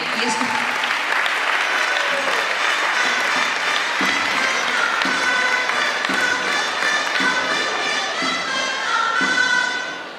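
Audience at a Catalan pubilla and hereu election ceremony claps loudly and steadily for the full stretch, a dense hall applause that swells slightly near the end before tapering.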